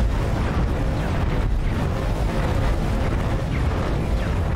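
Turret fire hammers a player's ship in the space game X4 Foundations, a dense, continuous rumbling barrage of heavy blasts that stays loud and close throughout.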